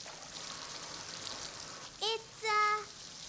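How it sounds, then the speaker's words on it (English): A cartoon waterfall gives off a steady, soft rushing hiss throughout, and a voice briefly speaks near the end. "I know, it's a waterfall."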